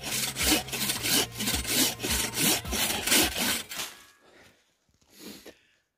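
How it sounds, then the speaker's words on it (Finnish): A hand saw cuts through wood in quick, rhythmic back-and-forth strokes, close and loud, then stops, followed by a brief faint rasp. "Ei muuta kuin saha laulamaan."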